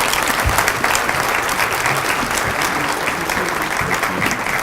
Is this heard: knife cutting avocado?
no